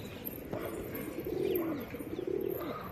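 Pigeons coo in low, rolling phrases as the flock settles back down onto a perch, two longer coos standing out over a soft, steady outdoor background.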